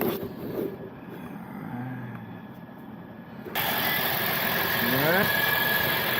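A high-mileage 2020 Toyota Corolla Hybrid engine idles just after starting, a steady low hum that rises in level partway through, with a brief rising whine near the end and a voice speaking briefly over it.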